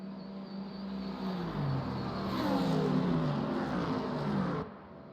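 GT3 race cars, a Lamborghini and an AMG, roar past at Monza's Curva Grande, their engine notes sweeping and swelling loudly together before the sound cuts off abruptly near the end.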